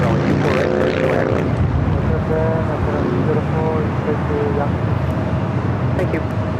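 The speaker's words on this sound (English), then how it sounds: "Asiana Flight 204, the flight coming in from Seoul, the A380 Super" An Asiana Airbus A380 arriving at LAX on its flight from Seoul gives a steady, broad roar throughout, overlaid with radio and tower chatter.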